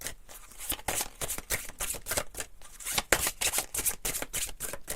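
A deck of tarot cards is shuffled and drawn close up, with rapid, crisp riffling flutters and snaps in quick bursts, loud and alone without talk.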